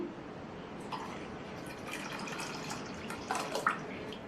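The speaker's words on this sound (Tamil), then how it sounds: "5 கப் அளவு பாலை இதுல சேர்க்கிறேன்." Boiled and cooled milk is poured into cooked sago (tapioca pearls) in a pot for payasam. A steady, close liquid pour is heard, with a few faint splashes and drips toward the end.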